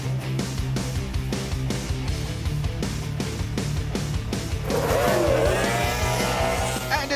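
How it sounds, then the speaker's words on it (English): Several high-powered F1H2O racing powerboat engines roar together at close range at a race start, revving hard and continuously, with a rising whine as they accelerate away. "These boats can hit speeds of 100 kilometers an hour in 4 seconds as they shoot off the pontoon."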